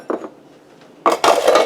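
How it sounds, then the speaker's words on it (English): Dishes are set down into a kitchen sink with a few loud, close clatters and clinks of crockery and utensils, the bigger crash landing near the end. "so let's throw my dishes in the sink"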